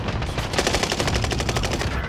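Rapid automatic gunfire on Rebirth Island in Warzone, a loud, continuous burst of evenly spaced shots that lasts the whole moment, with no voices over it.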